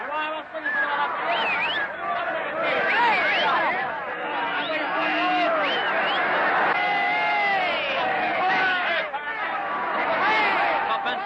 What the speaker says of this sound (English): And how the crowd is greeting it.